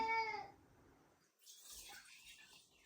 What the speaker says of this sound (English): I'm gonna take my birch water and fill my jars with it.